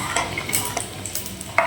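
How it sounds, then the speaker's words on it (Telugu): Boiled dal being stirred into a hot tempering for palakura pappu, with soft scraping of a spoon in the pan over a light sizzle, close and without talk. "ఉడకబెట్టుకున్నటువంటి పప్పుని బాగా కలిపి ఇందులో వేసుకోవాలండి"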